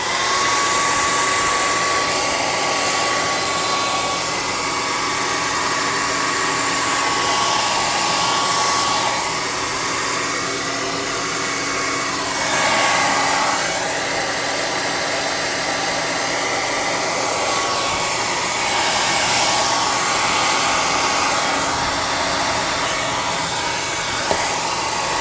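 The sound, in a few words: hair dryer blowing hot air to dry a clear coat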